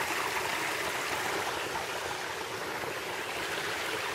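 Water pours steadily at Waterfall Bay, a continuous broadband rush heard alone and close, with an even level throughout and no voices.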